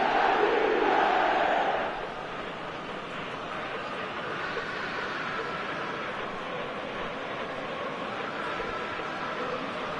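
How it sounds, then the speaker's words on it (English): A large stadium crowd roars and murmurs in the eFootball 2026 football video game, a steady broad wash of cheering that is louder at first and then settles into a continuous hum. "Now the crowd are demanding that they just finish this off"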